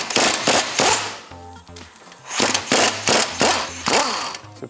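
Impact gun with a 27mm socket working a strut bolt on a 991.1 Porsche 911 Carrera 4S, heard as loud, close rattling bursts in two clusters separated by a short pause, each burst hammering rapidly.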